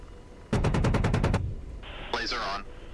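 Enemy gunfire in the DCS Apache combat flight game: a loud, rapid burst of about eight evenly spaced shots, followed by a harsher electronic warbling tone. A faint voice stays underneath.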